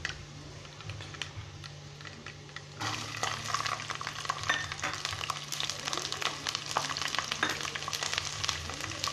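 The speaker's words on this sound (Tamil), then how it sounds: "வெந்தயம் சேர்த்துக்கோங்க. போதும். இப்போயே நம்ம பூண்டு சேர்த்துடலாம்." Garlic and fenugreek frying in hot oil for a Chettinad fish curry, a steady close crackling sizzle that jumps louder after a few seconds when the garlic goes in, with no talk.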